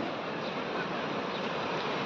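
Rushing water from a river or stream beside a bridge forms a steady, dense wash with no breaks, close and moderately loud throughout.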